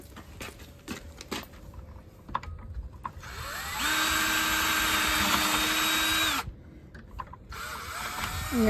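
A power drill boring holes for bolts runs in one sustained high whine for a few seconds, close and loud. Shorter bursts and clicks come before and after, with quiet gaps between them.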